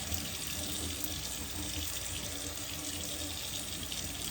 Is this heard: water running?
yes